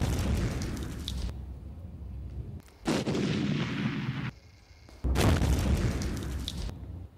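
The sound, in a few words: explosions as Indian army destroys Pakistani army posts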